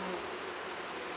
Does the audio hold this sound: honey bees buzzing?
yes